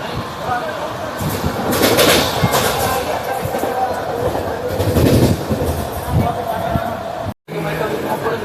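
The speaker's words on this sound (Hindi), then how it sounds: "सराय बंजारा को स्किप करती हुई अपनी ट्रेन।" A MEMU passenger train, number 64511, runs through Sarai Banjara station without stopping, heard from on board as a steady rumble and rattle of the carriages with some wheel clatter. Voices are present faintly underneath, and the sound cuts out briefly near the end.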